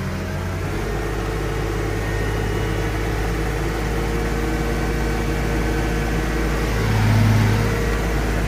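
A Case Magnum 7210 Pro tractor engine runs at a steady drone, loud and constant, with a brief swell of revs near the end; no talking.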